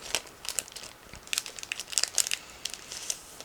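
Close, crisp crinkling of a resealable plastic bag holding decals and photo-etched parts from a 1/72 scale model kit, in irregular bursts, handled and squeezed for a few seconds with no talking.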